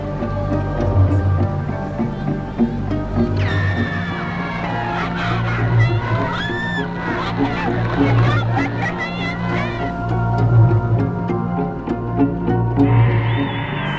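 Large roadside crowd in Dallas cheering, shouting and screaming as President Kennedy's motorcade passes, loud and continuous with a commentator talking over it.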